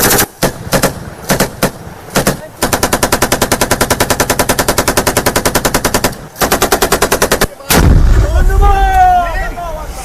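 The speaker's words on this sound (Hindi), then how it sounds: "अफगान आर्मी की तरफ से इस तरफ से फायरिंग की जा रही है और दूसरी तरफ से तालिबान लगातार जवाब दे रहे हैं" Gunfire between Afghan army and Taliban fighters rings out in loud close bursts: a long rapid machine-gun volley, separate single shots, then a heavy blast with a rumbling tail.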